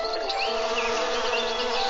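Bees buzz in a dense, steady swarm, loud and close, with overlapping wingbeat drones holding at one level throughout and no voices.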